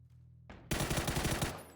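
Rapid automatic gunfire from a competitive first-person shooter match: a sharp burst breaks out after a brief lead-in and continues as a dense, loud rattle of shots for about a second before easing off.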